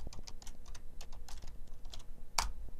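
Close, steady keyboard typing as a connector name is entered on a computer, quick irregular key clicks with one sharper keystroke near the end.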